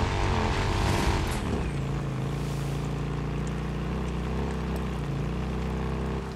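A motorcycle being ridden in the video game Days Gone, with a steady, loud engine drone at constant revs and rushing wind noise throughout.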